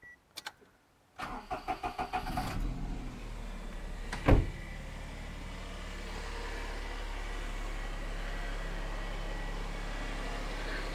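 A small Daihatsu car engine with a smoking fault starts up after a few cranks, gives a sharp blip, then settles into a steady, continuous idle, close and alone.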